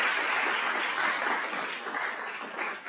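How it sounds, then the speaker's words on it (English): Audience applauding at a convocation general session, a steady wash of clapping that holds for about three seconds and tapers slightly at the end. "Yes, applause."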